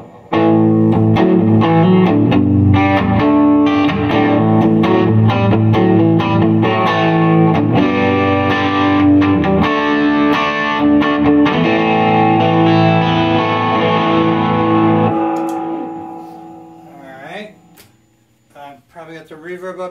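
Electric guitar on the bridge pickup played through a boutique 1x12 combo amp with the drive engaged, loud sustained overdriven chords and notes with noticeable reverb, ringing out and decaying near the end.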